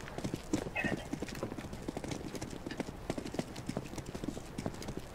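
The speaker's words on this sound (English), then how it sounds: "I hear footsteps." Rapid, continuous footsteps in Counter-Strike: Global Offensive, a dense rhythmic patter of close thuds lasting throughout, with a faint tonal call briefly audible near the start.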